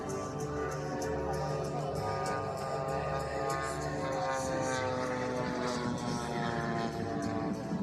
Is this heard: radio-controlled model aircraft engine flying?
yes